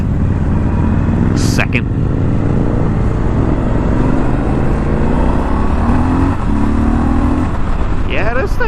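A Triumph Scrambler 1200 motorcycle engine roars steadily and loudly throughout, rising in a pull with a brief whine near the end, while a voice says a single word early on.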